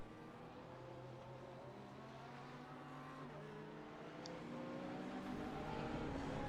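Ferrari and Lamborghini GT3 race cars in the iRacing video game, with a steady engine drone whose pitch climbs and shifts as the cars accelerate, fairly faint and continuous, with no talking.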